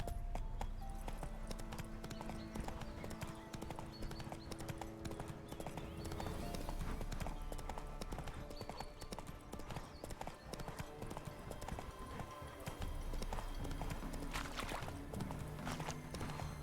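Roach, the horse in The Witcher 3, gallops with a rapid, continuous clip-clop of hooves, steady and fairly close throughout, with faint game ambience beneath.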